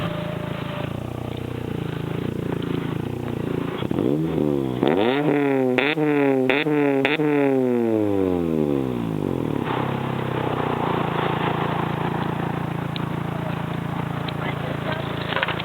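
An engine fitted with an aftermarket exhaust, at a small car meet outside a house, is blipped several times in quick succession, each rev climbing and falling loud and close before settling back to a steady idle rumble.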